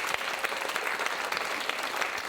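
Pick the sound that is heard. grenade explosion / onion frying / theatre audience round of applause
theatre audience round of applause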